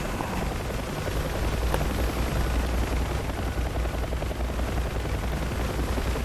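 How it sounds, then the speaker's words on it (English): UH-1H Huey helicopter in the DCS World flight game firing rockets: a dense, continuous roar of rotor and launch blasts with rapid booming bursts, loud and steady throughout. "I'm gonna switch to rockets"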